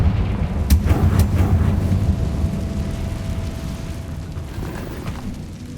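A fire-spell blast in the Hogwarts Legacy video game sets off a deep, rumbling explosion that swells at once and rolls on as a sustained roar with a few sharp crackling pops near the start.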